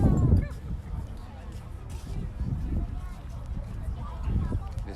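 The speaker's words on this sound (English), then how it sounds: "let's take a look over here to see some of the dogs here having a great time" Dogs romping together at a city dog park, with scattered barks and yips, scuffling, and running, heard under background voices of people nearby.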